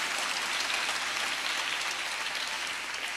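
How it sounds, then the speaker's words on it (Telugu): A church congregation claps hands in praise during a Telugu sermon, a dense, steady wash of many hands applauding together at close range, with no talk over it. "చప్పట్లు కొడుతూ ప్రభుకు స్తోత్రాలు చెప్దాం."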